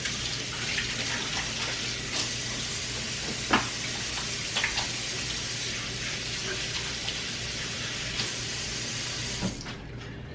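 A kitchen tap runs steadily as hands are rinsed under it, giving a continuous close water rush with a few light splashes and knocks.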